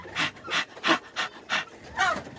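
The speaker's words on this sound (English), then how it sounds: "you find your turkeys panting" Turkeys panting in hot daytime weather, a run of six quick, raspy breathy pants at an even rhythm, close and fairly quiet.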